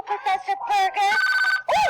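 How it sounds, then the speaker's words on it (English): A telephone rings with a warbling electronic tone in close repeated bursts, and a voice speaks briefly over it. "that's my phone"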